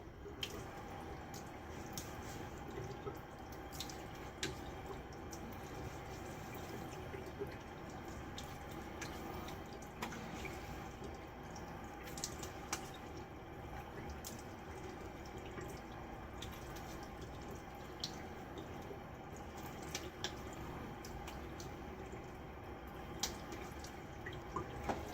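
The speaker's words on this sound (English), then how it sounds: "so I'll just rinse." Tap water runs steadily into a sink while a razor is rinsed under it, a constant close splashing flow with small drips and clinks over the full stretch, no talking.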